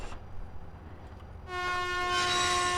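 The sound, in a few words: train horn signal in a GTA-style railway video game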